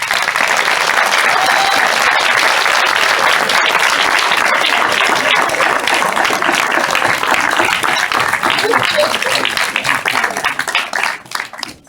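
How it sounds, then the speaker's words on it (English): The audience at a culinary job training graduation ceremony breaks into loud, continuous applause with some cheering. It lasts about twelve seconds and fades near the close. "have a round of applause for all the work that you do every day"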